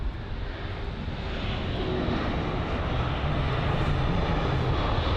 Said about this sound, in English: the BA A320neo from Madrid.